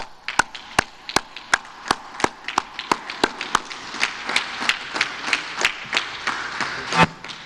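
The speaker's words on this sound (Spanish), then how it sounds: "un aplauso para la maestra" Sharp, evenly spaced claps repeat in a steady rhythm of about three per second, with a low background murmur underneath, as people applaud a teacher at a public event.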